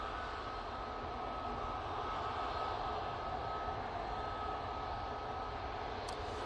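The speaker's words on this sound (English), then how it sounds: "78-8 coming in from Glasgow." Boeing 787-8 airliner arriving from Glasgow at Manchester Airport produces a steady, broad jet roar heard from a distance, constant and unbroken throughout.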